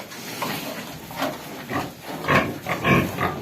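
Pigs in a pen undergoing dry powder disinfection, grunting and squealing in several loud bursts over a steady, breathy hiss of background noise.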